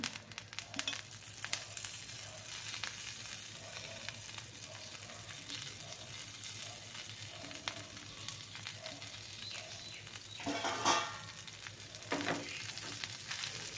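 Sesame seeds and tamarind fry in a pan with a faint, continuous sizzle, scattered soft crackles and occasional stirring scrapes, heard alone without speech.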